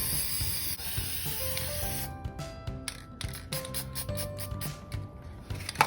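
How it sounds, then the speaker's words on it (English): A steady hiss of an aerosol clear coat spray can onto painted rocks, in short bursts toward the end, close up over soft music. "So now I'm going to spray them with the clear coat."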